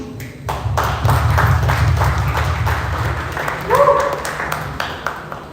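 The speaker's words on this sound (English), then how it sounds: "give it a huge round of applause for Mr." An audience at a live discussion event claps to welcome a guest coming on stage, a moderate crowd of applause with a few sharper pings and taps, and a voice speaking briefly over it.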